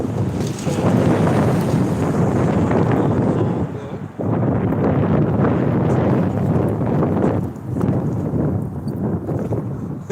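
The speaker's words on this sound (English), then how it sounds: "Windy out here." Heavy gusts roar and buffet the microphone in long waves, nearly drowning everything else, easing briefly before surging again.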